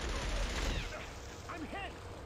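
Enemy turret gunfire in the Killzone video game, a dense burst of rapid shots up close at the start that eases into a steady rattle, with voices talking over the fighting.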